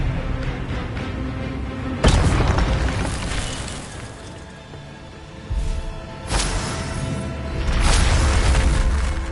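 Spell-casting blasts from the video game Hogwarts Legacy: several loud booming bursts land at irregular intervals over a continuous rumbling game soundscape, with no talking.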